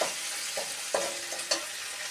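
Cumin powder hits hot dal made with bottle gourd greens, giving a steady soft sizzle with a few sharp stirring clicks and scrapes spread through.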